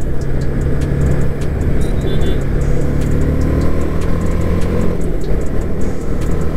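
A vehicle moving through traffic, with a loud, steady engine and road roar that holds throughout, and light ticking and rattles over it.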